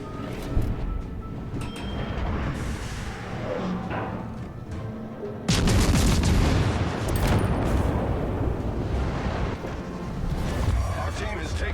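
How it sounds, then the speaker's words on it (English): Naval gunfire and explosions from World of Warships Legends: a dense, loud wash of booming warship salvos and blasts that surges even heavier midway, with game voices speaking over the battle. "Concentrate fire on the enemy warship."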